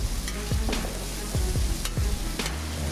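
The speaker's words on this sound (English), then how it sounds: "we're gonna go ahead and mix that all together" A spoon scrapes and stirs spiced burrito filling with paprika and salt in a pot, several rhythmic scraping strokes over a low sizzle, close and loud with no talking.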